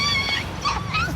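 A puppy whimpering close by in a few short, high, wavering whines.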